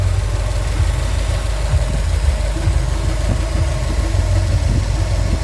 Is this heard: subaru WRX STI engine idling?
yes